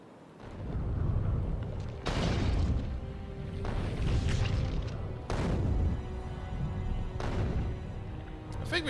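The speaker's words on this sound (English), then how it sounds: "We only got like one little gun over there shooting at it." A gun turret in the Space Exploration game fires at worms, giving repeated muffled booms and crashes at irregular intervals, fairly quiet and continuous.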